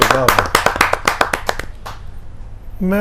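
A quick burst of hand clapping from a poetry gathering audience, a dozen or so sharp claps in a loose rhythm over voices, fading out before talk resumes.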